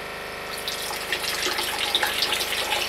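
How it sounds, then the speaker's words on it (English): Water runs steadily from a tap into a sink, a continuous hissing splash with some bubbling, close by. "Now go to the bathroom and turn the bathroom sink on high."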